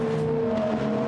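A GT race car at Brands Hatch circuit rushes by with a steady droning engine note, heard at moderate distance for just a moment.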